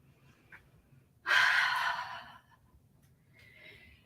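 Single forceful exhale during a floor workout, a close, breathy rush of air lasting about a second. A softer breath follows after a pause, and the room is otherwise quiet.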